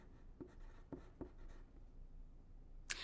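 A pencil scratches across a paper activity sheet, with a few short distinct strokes early on and a sharper tap near the end, quiet and close with no talking.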